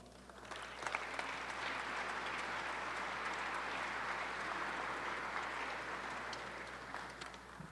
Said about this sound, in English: please give a warm round of applause for Mr. Joe McCullough